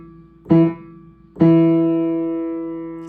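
Piano notes played in a simple rhythm: two short struck notes, the first clipped quickly and the second ringing out long and fading slowly, close and clear with no talking.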